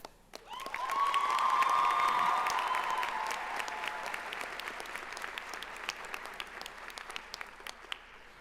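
Steady, sustained audience applause at a charter school graduation ceremony in Brockton, with a brief tone near the start. The many clapping hands swell early, then taper slightly while staying continuous.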